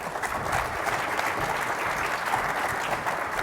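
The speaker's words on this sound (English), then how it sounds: "let's give them a round of applause for the creators winners." A conference audience gives a steady round of applause for the creators' winners on stage, a dense, even wash of many hands clapping with no speech over it.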